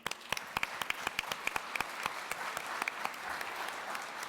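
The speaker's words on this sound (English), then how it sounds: "big round of applause, I would say" Applause at a union convention: a hall audience claps at moderate distance, sharp individual claps standing out over a steady, fairly quiet patter that continues throughout.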